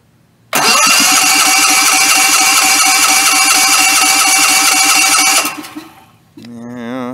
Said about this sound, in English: So hopefully it starts up here without too much cranking or starting here.